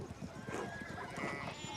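Sheep bleating in the medieval game Pentiment, a few soft wavering bleats close together, fairly quiet, with no talk over them.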